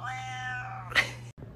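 A female cat gives a single long, raspy, hoarse meow up close, its harsh tone rising into a brief scratchy peak before cutting off, followed by a faint trailing sound.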